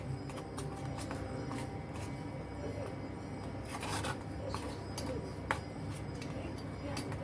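Red pumpkin batter mixed with a pinch of baking soda is stirred in a bowl, giving a continuous soft rubbing and scraping close by over a low background hum.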